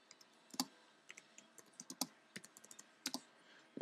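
Computer keyboard keys clicking in short bursts as a password is typed on a computer during setup of OS X Lion on a G41M-ES2L board, close and quiet with no talk.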